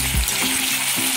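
Onion paste hits hot oil with crackled cumin seeds and sizzles loudly up close, a dense continuous frying hiss with a couple of low clunks.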